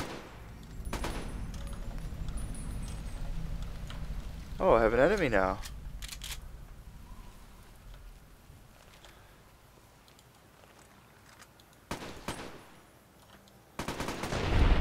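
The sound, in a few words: modded gun firing in video game Fallout New Vegas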